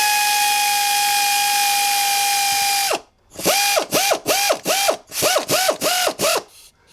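A screw-type hose clamp is tightened onto the lower water pump hose of a 1999-2013 Chevy truck. A steady mechanical whine runs for about three seconds and cuts off, then around nine quick, rhythmic ratcheting bursts follow close by.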